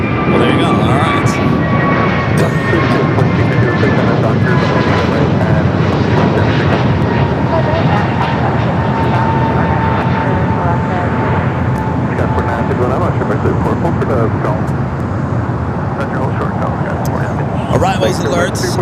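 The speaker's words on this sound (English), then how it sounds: "Aircraft approaching LAX includes Sky West, Delta, Alaska, and a couple other Sky West." A jet airliner roars steadily on approach to LAX, a loud continuous engine rush with a slowly falling whine throughout, while a voice talks over it.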